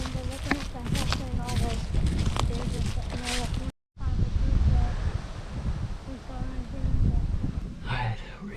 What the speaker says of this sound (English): it's super windy, but it's blowing in our face